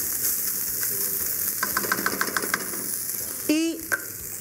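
Tomato sofrito frying in a pan over medium heat gives a steady soft sizzle with scattered crackles and pops, rising near the end with a few brief sharper scrapes or clinks.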